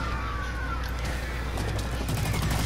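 Rapid gunfire in the shooter game Blacklight: Retribution, a dense continuous burst of automatic shots with sharper cracks toward the end, loud and steady throughout with no talking.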